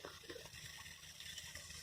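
A hose pipe runs water into a garden water butt on an allotment, a steady gushing and splashing stream that is fairly faint and continuous.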